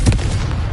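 A Confringo fire blast spell in Hogwarts Legacy gives one sharp, loud, close explosive crack with a deep thump, cut off almost at once.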